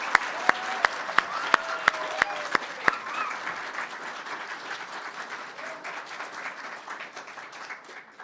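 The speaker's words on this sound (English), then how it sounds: "how about a round of applause for all those recipients?" Audience applause for award recipients at a sheriff's office years-of-service ceremony opens with several loud, evenly spaced close claps, then spreads into steady, dense clapping from the room.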